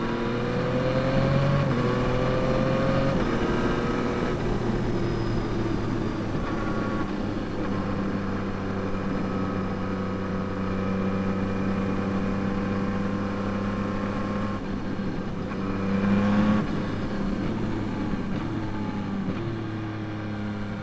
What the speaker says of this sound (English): How good does it sound on the quick shifter?